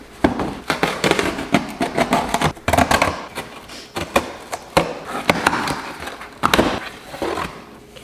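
Close, loud crinkling and tearing of packaging as a Melody Susie nail dust collector bought for ceramics work is unboxed, with dense irregular rustles, crackles and sharp thumps running throughout and no talking.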